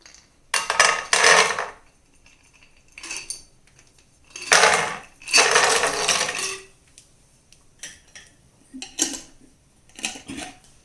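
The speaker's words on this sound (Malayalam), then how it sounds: "നമുക്ക് ഒരു പാൻ അടുപ്പത്ത് വെച്ചു, 1 സ്പൂൺ നെയ്യ് ഒഴിച്ചിട്ടുണ്ട്. അതിലേക്ക് നമുക്ക് കശുവണ്ടി പരിപ്പ് ഇട്ട് കൊടുക്കാം." Cashew nuts are tipped into a pan with a spoonful of ghee on the stove, making several bursts of rattling, clattering sizzle separated by quiet pauses, with softer scraping and clinks between them.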